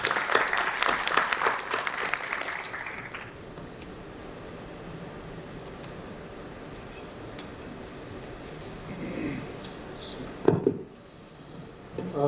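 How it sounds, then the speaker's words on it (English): An audience at a talk claps, loud and dense for a few seconds, then the applause quickly tapers into a low room murmur. "Let's welcome him with a big round of applause"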